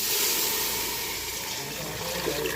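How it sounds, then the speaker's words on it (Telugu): Water pours steadily into a cooking pot at close range, a continuous splashing gush that holds throughout with no talking. "నీళ్ళు అయితే పోసేస్తున్నా"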